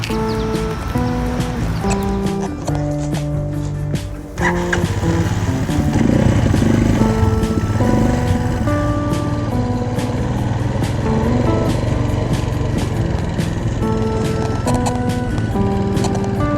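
A Janus Halcyon 250 motorcycle rides through scenic Massachusetts, with a loud, steady engine drone and road noise running the whole time, briefly dipping before a stronger, continuous pull.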